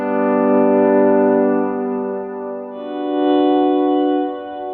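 Volume swells on electric guitar through delay and reverb pedals, smooth sustained chords fading in and out in slow waves, one swell giving way to another with a lush, echoing ambient wash.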